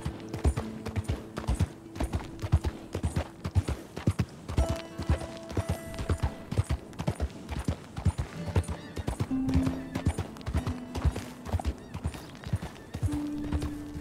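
Rhythmic clip-clop of horse hooves trotting steadily in Red Dead Redemption 2, with occasional whinnies and soft background music tones.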